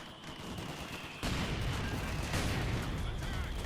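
Mortar and machine gun fire in the real-time strategy game Company of Heroes 2, a dense, continuous roar of battlefield gunfire and blasts that jumps louder partway through and stays heavy to the end.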